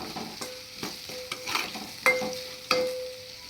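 Okra pieces stirred with salt and turmeric in a pan, a spoon scraping and knocking in short irregular strokes over a faint sizzle, with a couple of sharper clacks near the end.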